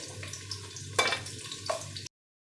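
Grated garlic and onion pieces frying in a pan, giving a soft, steady sizzle with two brief louder scrapes of stirring before the sound cuts off.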